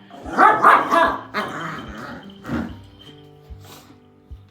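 A dog barks several times close by, a quick cluster of loud barks that taper into softer yips and whimpers.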